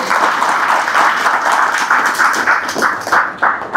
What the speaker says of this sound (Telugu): ఇప్పుడు కొట్టాలి చప్పట్లు.